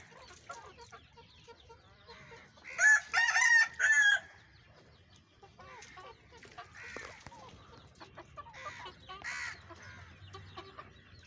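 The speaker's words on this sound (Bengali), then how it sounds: "তারপর আমার এখানে কিছু মুরগি আছে।" Chickens around a backyard poultry coop cluck softly and steadily, and a rooster lets out one loud crow partway through. The calls sound close, over a quiet outdoor background.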